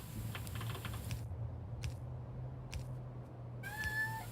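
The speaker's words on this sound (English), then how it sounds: "Why is Ollie meowing?" Ollie the cat gives a short meow, quiet and close, with scattered keyboard-like clicks and a low steady hum in the background.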